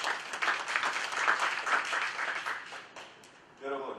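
Applause and scattered clapping rise from a church congregation while a preacher keeps talking in Korean over them, fading out near the end.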